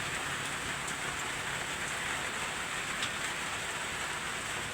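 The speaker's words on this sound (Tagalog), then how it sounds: "Maghapong ulan." Heavy rain pours steadily during a typhoon, a dense, even hiss of downpour on surfaces with no talking and no breaks.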